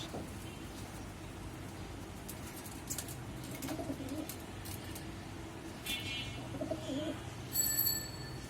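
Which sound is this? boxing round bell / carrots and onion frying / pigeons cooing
pigeons cooing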